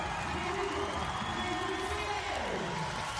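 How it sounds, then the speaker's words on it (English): Loud home crowd in Portugal cheering at a men's volleyball match after beating China, a continuous dense roar with whoops, and a commentator speaking over it. "A delighted home crowd"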